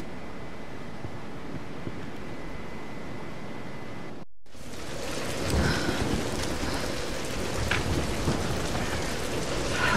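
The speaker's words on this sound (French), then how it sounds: "La tempête n'est plus très loin." A thunderstorm with rain in the Tomb Raider Definitive Edition game. Steady rain hiss runs throughout, breaks off briefly, then returns heavier with rumbling thunder and sharp crackles.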